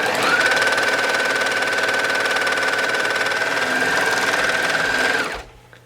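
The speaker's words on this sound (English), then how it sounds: "I'm just going to start by stitching the side together." An overlocker sewing machine stitches a fabric side seam in one continuous fast, steady whirring hum, close and loud, then stops abruptly near the end.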